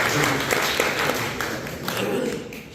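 Steady crowd applause at a poetry gathering (kavi sammelan) fills the whole stretch, a dense wash of many hands clapping at moderate volume without pause.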